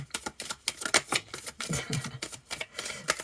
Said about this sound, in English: I'm going to give 3 shuffles, and if nothing comes out, I'm going to take the 3 cards from the top